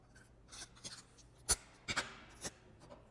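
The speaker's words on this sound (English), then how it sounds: "I'm going to go ahead and tape that before I cut this end off." Sticky tape being pulled and pressed down to fix a plastic straw onto a homemade kaleidoscope tube, heard as a few short, close crackling tears and rubs spread irregularly over a few seconds, with no talking.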